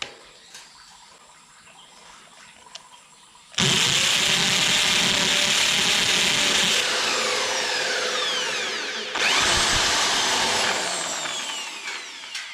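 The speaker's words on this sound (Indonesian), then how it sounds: "Jadi begini langsung kita bor di sini." Power drill boring into a light steel frame for a stove table, loud whining bursts at close range, a sustained run followed by a second burst after a short pause, with quieter ambience before.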